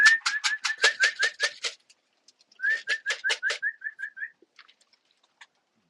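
Two runs of rapid, repeated whistled bird calls sound close and clear around a feeder, with a brief gap between them and silence after.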